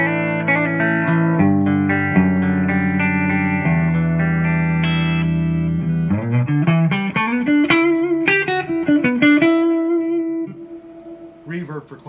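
A clean channel on an AOC MKII amplifier carries an electric guitar playing sustained chords, then a run of quicker picked notes settling into a held tone that fades, loud and close with no talking.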